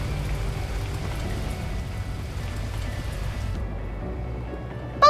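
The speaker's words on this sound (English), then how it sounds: "At that moment, the heavens opened up, unleashing torrential rain." Torrential rain pours down in the video game Beacon Pines, a steady dense hiss with a low rumble that stays loud throughout, then cuts away at the end to a brief clatter.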